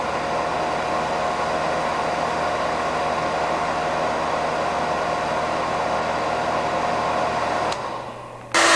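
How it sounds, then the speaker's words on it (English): A Conair turbo 1500 watt hair dryer runs at close range, a steady broadband whoosh of blowing air with a motor hum, cutting off abruptly near the end before another sound briefly starts. "This is a standard hair dryer, a Conair turbo hair dryer, 1500 watts. And you can hear the sound that it's generating."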